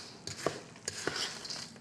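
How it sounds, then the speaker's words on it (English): A spoon stirs yakitori tare sauce with pickles in a cup, making soft swishing and several light, scattered clinks against the sides, close up and quiet, with no talking. "Stir in there good."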